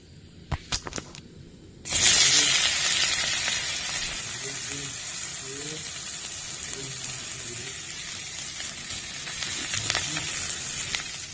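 Onions and panch phoron spices dropped into hot oil: a few clinks, then a sudden loud sizzle that settles into steady frying for several seconds, with a faint voice underneath.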